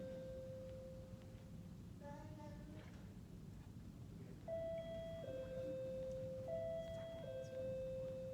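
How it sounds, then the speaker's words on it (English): An electronic doorbell chimes a few sustained tones, followed by a longer two-note ding-dong pattern repeating, heard faintly indoors with no talking. "It's just the doorbell"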